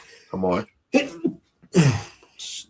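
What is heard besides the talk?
sneeze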